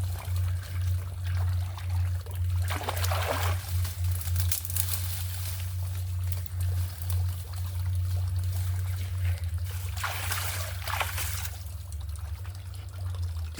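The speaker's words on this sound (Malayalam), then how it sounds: "ഈ വരുന്ന വെള്ളം ഇതുവഴി ഒഴുകി അവിടെ ഒരു ചെറിയ ചാലുണ്ട്." Water trickles steadily through a small channel running into a field, a continuous close gurgling wash with a few louder splashy surges and a low steady rumble underneath.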